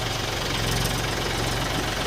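A tractor engine runs in reverse with a steady, loud, rhythmic low chugging that holds unbroken throughout, with no voices.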